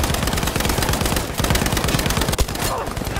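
Sustained rapid machine-gun fire in Battlefield V, a dense, loud, continuous stream of close shots with a steady rhythm and one sharper crack near the end.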